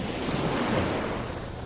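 Ocean waves wash steadily onto a seashore where shellfish are being collected, a continuous broadband rush with some wind noise and no pauses or voices.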